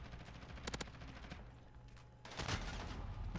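Automatic LMG fire in Call of Duty, a tight burst of several rapid shots followed later by a louder, longer stretch of sustained gunfire, medium distance with game ambience between.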